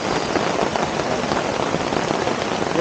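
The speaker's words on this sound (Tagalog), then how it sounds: "hindi naman mahangin, malakas lang yung ulan" Heavy rain falls steadily on a car-camping site with little wind, a dense, continuous hiss of drops close by that drowns out everything else.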